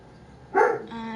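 A dog gives a single short, fairly close bark, followed by a faint lingering tone with no talking.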